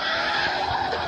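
Tires screech in a sustained skid as a car drifts in the CarX Drift Racing video game, a steady loud squeal with engine roar underneath.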